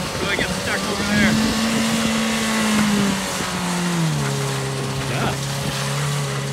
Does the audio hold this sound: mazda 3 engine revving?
yes